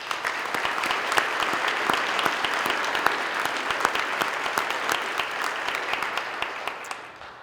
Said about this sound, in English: Please join me with applause in recognizing all of those PSEO graduates